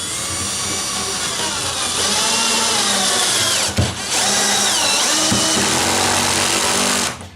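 Drill driver spinning a screw into wood in a woodworking shop, a loud steady whirring motor held for several seconds with a brief stop midway and then cutting off near the end.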